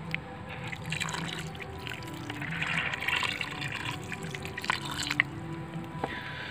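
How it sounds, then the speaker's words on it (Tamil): Water poured from a bottle onto a potted plant dressed with Epsom salt, a soft continuous trickle and patter of liquid soaking into soil, fairly quiet and close with no talking. "தண்ணி ஊற்றுருங்க."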